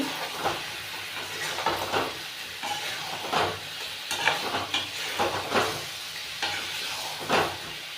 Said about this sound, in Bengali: টমেটো সসটা আমি দিলাম চা চামচের এক চামচের মতন এটা ভালো করে মিশিয়ে দিচ্ছি